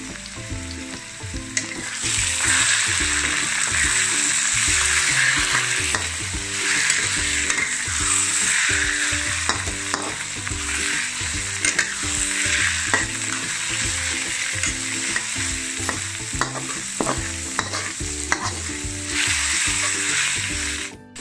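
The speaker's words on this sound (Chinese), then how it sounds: "炒香虾米， 虾米炒香，加入肉碎、" Dried shrimp stir-fried with minced meat and mushrooms in a wok: a loud, continuous sizzle, broken by repeated scrapes and clinks of the spatula against the pan, with a faint steady tonal background underneath.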